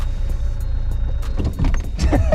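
A car engine drones low and steady while the car drives slowly over rough ground, with the revs building toward the end as the driver gives it a little more gas.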